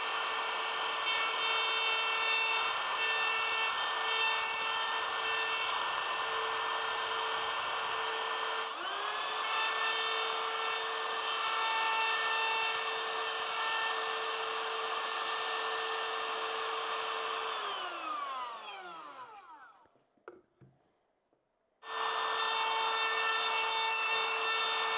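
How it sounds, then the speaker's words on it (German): A wood router running in a flattening jig mills dowels and round wood level, a loud continuous high whine with cutting rasp that holds for about eighteen seconds, then spins down, goes silent, and starts up again. "die wollen wir jetzt einfach mal schön eben abfräsen hier"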